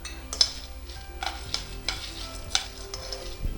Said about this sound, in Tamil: இப்போது ஒரு ட்ராப் எண்ணெய் விட்டு வறுத்துக்கலாம்.